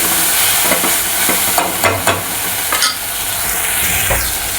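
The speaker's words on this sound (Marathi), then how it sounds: "हा मसाला तर चांगला भाजून घेऊया व्यवस्थित" Masala of ginger, garlic, coriander and sesame roasts in a pan for a Kolhapuri-style mutton fry, giving a loud, dense sizzle with a few scraping stirs and no voices.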